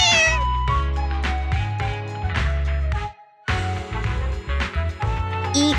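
Cats meow repeatedly in the video game Zenless Zone Zero, loud and close, several calls overlapping in a steady stream with one brief pause midway.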